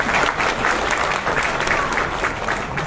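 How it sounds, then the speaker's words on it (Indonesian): An audience at a school inauguration event in South Jakarta applauds the family of a late architect, a loud, sustained, even roar of clapping from a large crowd with faint voices mixed in. "tepuk tangan untuk mereka semua."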